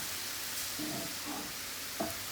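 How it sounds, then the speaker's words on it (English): Taco filling is mixed in a pan with smoky barbecue seasoning, giving a faint, steady sizzle broken by a few soft stirring scrapes and one brief clack near the end. "Mix it all around, and then you're going to top it with the seasoning"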